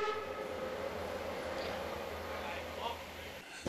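Historic railway locomotives at an event in Weimar, a sustained train horn blast over the steady rumble of rail cars, moderately loud and continuous.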